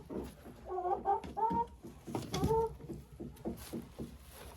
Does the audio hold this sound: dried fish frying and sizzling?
no